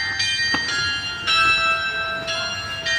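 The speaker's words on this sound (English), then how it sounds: "Paid the bell ringer." A church bell ringing in Krakow's Old Town, several struck tones with long ringing overtones, fairly close and clear, with no talking.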